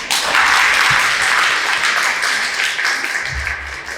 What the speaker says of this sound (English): Let's give another round of applause to Mrs.